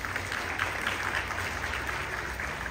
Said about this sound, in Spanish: darles un fuerte aplauso para este inicio de curso